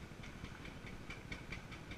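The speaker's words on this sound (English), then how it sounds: "This is a 1951 John Deere Model 60. It's 45 horsepower." A 1951 John Deere Model 60 tractor with a 45-horsepower engine idles at an outdoor steam and antique show, giving a steady, close, chugging rumble with faint regular ticks and hiss behind it.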